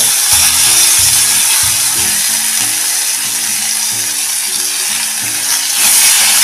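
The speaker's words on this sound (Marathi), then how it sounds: "बघा टोमॅटो असा छान परतून घ्या" Finely chopped tomato sautés with curry leaves in a hot kadhai for a no-onion, no-garlic dal and pumpkin amti, giving a steady, loud frying hiss that runs throughout with a faint low hum beneath it.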